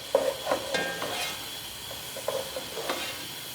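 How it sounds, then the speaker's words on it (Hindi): Soy sauce hits a hot pan with crumbled egg for egg fried rice, giving a soft steady sizzle under a few scraping stirs of a spatula. "2 टेबलस्पून सोया सॉस डाल दें।"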